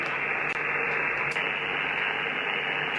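Steady, loud shortwave radio static hiss comes through an active antenna powered by a power bank, continuous and unbroken for the whole stretch with no voices.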